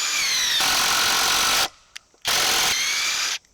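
A Bosch 1800C impact driver set to speed 2 drives screws into wood in two sustained, steady bursts of whirring and rapid ratcheting hammering, loud and close, separated by a brief quiet pause with a small click.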